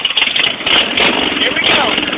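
A motorcycle engine runs loud and close for the whole stretch, a steady, rough roar with heavy wind rush over it.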